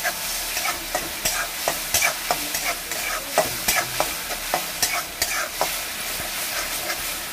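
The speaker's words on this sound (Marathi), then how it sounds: "आता आपण ह्याच्यामध्ये अद्रक लसूण पेस्ट टाकूया। फ्राय करून घेऊ 2 मिनिट।" Ginger garlic paste sizzles in hot oil over fried onion and tomato, with a steady crackling fry and frequent scraping stirs of a spoon against the pan, close and fairly loud.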